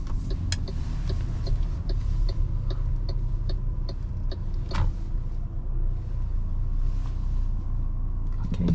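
Steady low engine and road rumble from inside a 2024 MG HS facelift with a 162 hp engine, driven at night through Zagreb, with faint scattered clicks and no talking.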